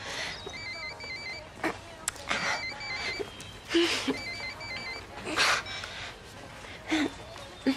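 A telephone bell rings repeatedly in short bursts amid a busy, noisy indoor scene with breathing and movement sounds.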